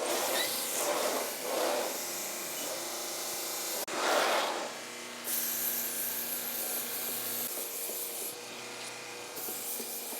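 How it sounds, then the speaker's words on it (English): A belt cleaning stick pressed against a running belt sander in a woodworking shop, giving a steady rasping rub over the sander's motor hum, with a brief surge partway through. "you just kind of push it against the belt while it's running and put a little weight behind it and just move it back and forth"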